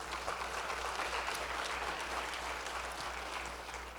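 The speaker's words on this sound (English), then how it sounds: "Give yourselves a great big hand clap of praise." A congregation at a ministry gathering gives a big round of hand clapping, a sustained, even wash of applause filling the whole stretch, steady in level, with a low hum beneath and no voices over it.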